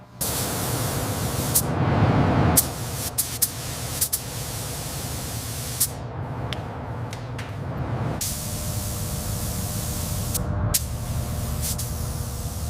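A spray gun lays a third coat of etch primer onto the body of a 1969 Dodge Charger under restoration, giving loud steady hissing bursts that stop and restart several times with short quiet gaps between passes.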